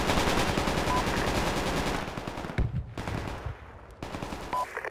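Rapid automatic gunfire rattles in Project Reality during a counter-terrorism round, dense continuous bursts for two seconds, then a few sharp separate shots with short gaps between them.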